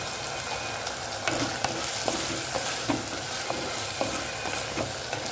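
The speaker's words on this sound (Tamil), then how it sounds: "சேர்த்து கத்திரிக்காயும் நல்லா வதங்கி வரட்டும்" Brinjal pieces sauté in oil in a pan for a spring onion and brinjal curry, with a steady close sizzle broken by irregular clinks and scrapes of a stirring spoon.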